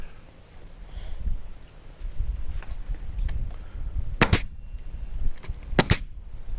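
Two sharp pneumatic staple gun shots crack out, driving 1.5 inch staples into 7/8 inch board a few seconds apart, over a low background rumble and faint clatter.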